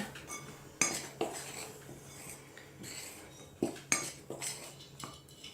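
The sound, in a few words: mixing flax seeds and raisins in a bowl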